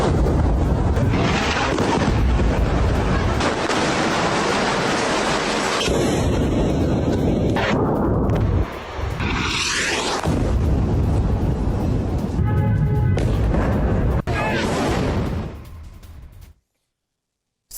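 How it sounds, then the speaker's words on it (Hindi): Heavy bombardment in Bint Jbeil, southern Lebanon, carried by sustained loud booming explosion rumbles with blasts and debris noise, continuous for most of the clip before dropping to silence. "बिन जबेल में आईडीएफ की भीषण बमबारी हुई।"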